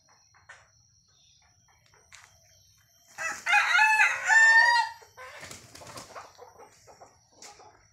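A tethered desi rooster with its legs tied crows once, loud and close, a long rising-and-falling call in an otherwise quiet setting with faint rustling afterward.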